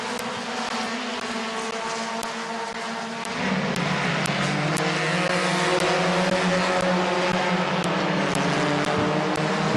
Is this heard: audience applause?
no